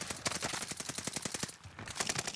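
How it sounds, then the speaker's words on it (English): Rapid bursts of automatic gunfire in the Warzone video game, loud and close, firing in quick rattling strings with a brief pause before a second volley, no talk. "see a lot more gunshots happening over here"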